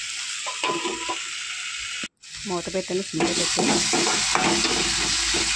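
Masala paste of poppy seeds and coriander frying and being stirred in a pan for crab curry, a steady close sizzle with scraping stirs, briefly cut silent midway, then continuing louder and denser.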